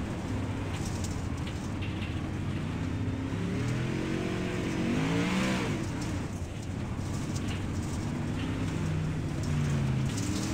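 Outlaw modified race cars in a sim racing game at the Chili Bowl, engine drones layered together at moderate volume, one pitch rising and falling as a car passes, under a steady hiss.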